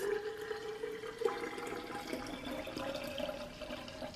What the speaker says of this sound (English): pour off the water from the rice